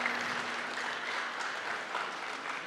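Audience at a library technology conference applauding newcomers, a steady, even wash of clapping filling the room for the whole stretch, with a faint hum underneath.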